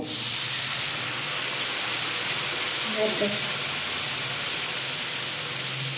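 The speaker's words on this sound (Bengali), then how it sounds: "এই যে আমি এই বাটিটার মেপে দিচ্ছি জল" Hot water is measured out by the bowlful and poured over lentils and rice for a Bengali bhuna khichdi. A loud, steady hiss and rush runs unbroken through the whole clip.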